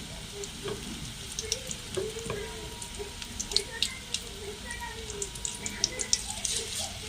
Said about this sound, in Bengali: আমার চিকেনগুলো ভাজা হয়ে গেছে, এবার তুলে নেব